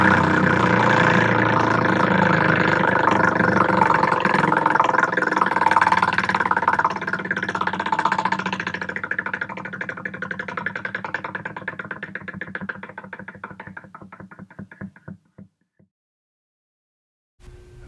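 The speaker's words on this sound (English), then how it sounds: "Let's give the wheel a spin" A prize wheel spins, its rapid ratcheting clicks slowing into distinct ticks before stopping, followed by a brief quiet and a faint tone; near and moderately loud, no speech.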